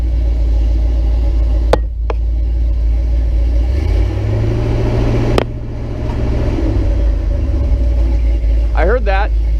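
A Ford 460 V8 engine idles with a deep, loud rumble, rising briefly to a raised rev in the middle before settling back, with a couple of sharp clicks and a voice speaking near the end.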